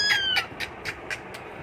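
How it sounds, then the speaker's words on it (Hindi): Hungry house cats cry indoors in a short run of about six quick, moderately loud meows, one after another, with a faint background hum. "देखो इनको भूख लग गया है इसलिए कैसा ये कैसे ये चिल्ला रहे हैं"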